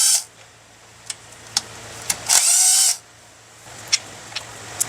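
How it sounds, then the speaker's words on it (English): A ratchet backs out engine valve cover bolts, heard as sharp isolated clicks and pawl ticks spaced through the clip, with one longer burst of rapid ratcheting in the middle. "Now we're going to remove the 4 bolts in the middle."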